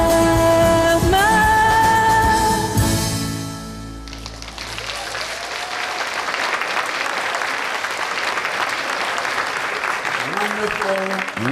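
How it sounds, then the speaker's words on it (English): An audience claps for a singer. Sustained, moderately loud applause follows the last notes of her song, which overlap the start before fading out, and the clapping carries on steadily with a voice surfacing near the end. "Let's give her another round of applause."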